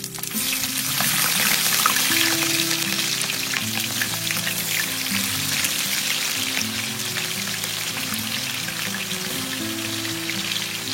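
Whole biryani spices and onions fry in oil for a 20 kg Muslim-style dum biryani, giving a continuous close sizzle over a steady low hum, with no talking.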